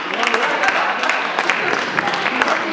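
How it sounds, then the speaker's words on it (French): An audience applauds steadily throughout, a dense continuous wash of many hands clapping with a few sharper individual claps standing out near and far. "vous pouvez applaudir Guillaume"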